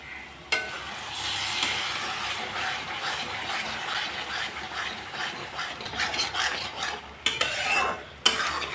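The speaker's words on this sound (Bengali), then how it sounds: "মশলা কষানো হয়েছে" Spice masala stirred and fried in a pan for pabda fish curry, a steady sizzle with repeated scraping strokes of a spatula and a few sharp clicks against the pan near the end.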